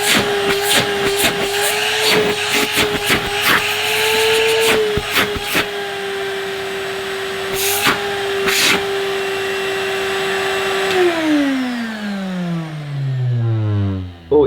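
A Numatic Basil vacuum cleaner runs with a loud, steady motor whine, broken by intermittent clunks and rattles, then powers down, its pitch sliding lower as it winds to a stop.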